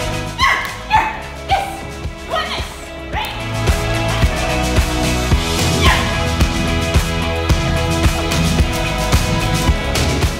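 A woman imitates a dog's bark to draw the attention of bull terriers during a photo shoot in Glasgow: a few sharp, loud yips, then music takes over.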